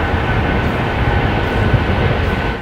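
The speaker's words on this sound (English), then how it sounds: "you jump into your Gulfstream G550 private jet and head to the country of origin just because you" A Gulfstream G550 private jet gives off a loud, steady, broadband engine roar that stays constant throughout, close and unbroken, with no voices over it.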